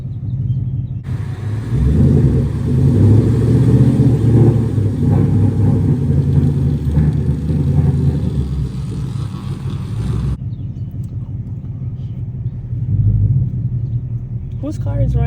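A Ford Mustang GT engine running with a deep steady rumble that swells through most of the span, then drops to a quieter idle. People talk over it.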